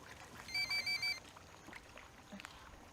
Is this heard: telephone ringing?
yes